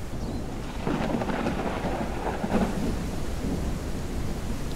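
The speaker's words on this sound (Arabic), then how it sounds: "خرشني المطر والله" Steady heavy rain with low rolling thunder in the survival video game Mist Survival, a continuous loud downpour with a deep rumble swelling through the middle.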